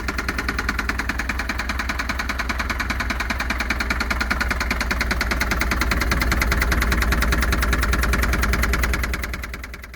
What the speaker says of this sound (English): It doesn't rev very well, and I'm not sure what that knocking is, but it sounds like a top end knock.